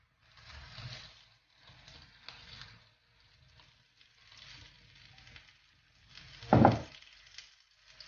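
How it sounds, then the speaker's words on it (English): Sauce is poured over a crispy Sichuan street pancake, giving soft intermittent sizzles and wet splashes, quiet overall, with one brief louder sizzling burst near the end. "Now we add the sauce on the top."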